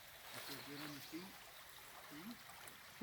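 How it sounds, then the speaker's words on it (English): A small brook flows with a faint, steady wash of running water outdoors, heard under quiet murmured talk. "Nice little brook."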